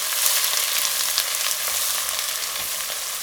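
Finely chopped ginger, minced garlic and slit whole green chilies sizzle steadily in hot oil, a continuous bright frying hiss with no pauses and no talk.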